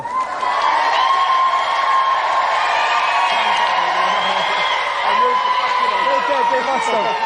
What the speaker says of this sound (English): Round of applause for Duncan.